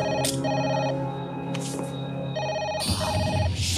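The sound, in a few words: telephone ringing unanswered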